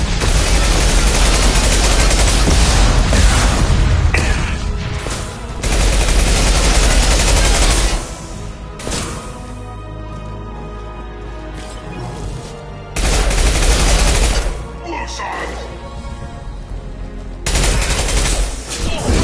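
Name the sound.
gunfire in the video game Mass Effect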